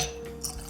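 Canadian whisky poured into a glass while blending two samples, a short soft liquid trickle and drip close by, with no talk.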